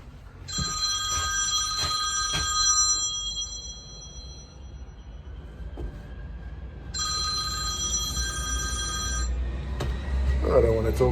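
Telephone bell ringing in two bursts of repeated electronic trills inside a bus depot or office, with a continuous low hum beneath and people talking in the background.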